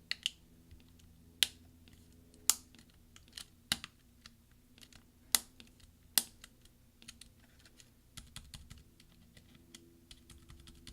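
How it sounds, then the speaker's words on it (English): Sharp plastic clicks and snaps of a tab key's clips snapping into place on a 13-inch Early 2009 MacBook Pro, a dozen or so spaced irregularly, close and fairly quiet against a faint background hum. "press down until you hear all the snaps from the various clips underneath it that need to click in"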